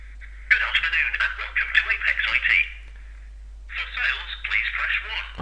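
An incoming call comes through a phone loudspeaker from a Skype/TAPI CTI setup: a steady ringback or call tone plays, then a tinny, voice-like stretch, a short gap and another bursty stretch, all with a constant hum underneath.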